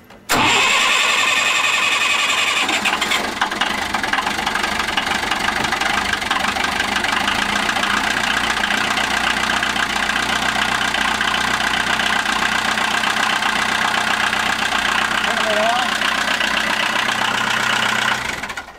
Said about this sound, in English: now when we start this engine